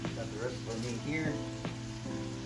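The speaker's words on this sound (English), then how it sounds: "Oh boy, all them seasonings coming together. Nice sizzle." Seasoned omelette fillings sizzling in a cast iron pan during a breakfast cook, a quiet steady frying hiss with faint scraping and clinks.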